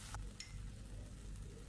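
Sambal terasi frying and being stirred in a pan, a low steady sizzle with a couple of brief scraping clinks from the stirring, close and continuous.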